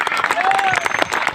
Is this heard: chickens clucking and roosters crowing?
no